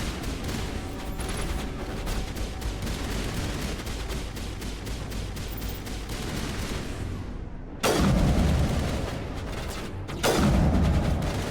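Sniper rifle fire in the video game Mass Effect: a dense stretch of rapid, loud gunfire, then two heavier shots that ring out clearly, with no voices over them.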